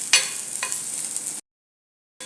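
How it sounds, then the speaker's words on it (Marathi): Onion and oil roasting on a new cast iron griddle, a steady close sizzle with two brief stirring bursts, then cutting off into silence before a short return at the end. "हा कांदा असा व्यवस्थित परत ह्याच्यात पसरून तेल सगळीकडे पसरत हे व्यवस्थित भाजून घ्यायचं"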